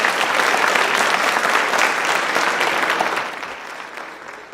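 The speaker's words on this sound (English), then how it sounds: "I would also like to give another round of applause for our amazing guest speaker," An audience at a high school baccalaureate ceremony claps for a guest speaker, a full round of applause that is steady at first and then thins and fades toward the end.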